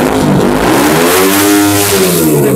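A GSR Movistar ABS sport motorcycle, started without a key, revs hard up close, its engine note climbing and falling in loud continuous throttle blips for the whole stretch.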